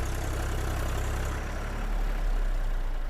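A Massey tractor engine idles with a steady low rumble during a power test on a rough track, continuous and moderately close, swelling slightly toward the end, with no voices.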